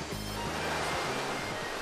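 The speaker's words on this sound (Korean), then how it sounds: "파도 치는 거 봐" Surf breaking against the rocky volcanic coastline of Jeju Island, a broad steady wash of wave noise heard close and continuous, with low rumbling beneath and no voices.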